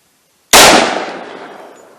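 A single loud, sharp gunshot from a 10mm pistol firing a Liberty Civil Defense round into ballistic gel, with a sudden crack followed by a decaying outdoor reverberation.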